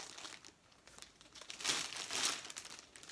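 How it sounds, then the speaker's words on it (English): Close crinkling of plastic yarn packaging comes in two swelling rustling bursts, fairly quiet, with no talking. "sorry for the crinkling"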